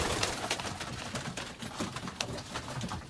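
Pigeons coo softly and repeatedly over a steady background hiss, several birds murmuring close by.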